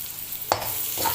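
Ginger stirred into a pan with onions and scallions while cooking batchoy, a soft sizzle under two brief scraping stirs of a utensil, close and alone.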